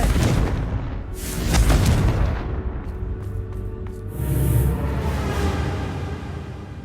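A Confringo fire spell explodes in the video game Hogwarts Legacy, giving deep booming blasts with a rumbling tail, one early and a second swelling near the end, loud and close.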